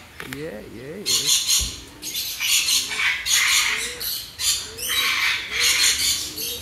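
Birds at a pet park in Kerala give loud, harsh squawks and chattering calls in repeated bursts close by, with a person's voice making sing-song sounds early on.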